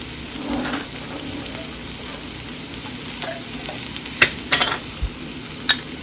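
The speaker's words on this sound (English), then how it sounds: "The peppers are getting cooked through, so I'm going to add some garlic." Peppers sauté in a pan with a steady low sizzle, broken by a few sharp clicks and scrapes of a utensil stirring near the end.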